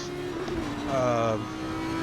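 Race car engine in a sim racing video game, a thin tonal whine that briefly rises in pitch as it revs, then settles, sitting under a man's speech.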